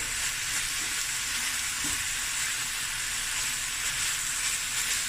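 Lamb chops searing in a hot pan, a steady, even hiss of sizzling fat that holds throughout at moderate loudness, with one brief low knock near the start and no voices.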